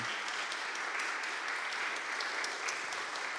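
Applause from a concert audience at a Christmas classics concert, even and continuous clapping throughout, moderately quiet in the hall.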